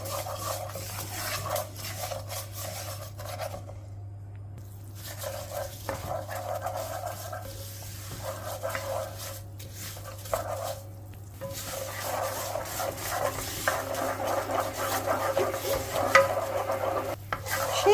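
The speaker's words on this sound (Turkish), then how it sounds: "Şehriyelerimizi de verip güzelce kızartıyoruz" Steady sizzle of vermicelli frying in oil, with intermittent scraping and stirring in a pan, continuous and close, no voices.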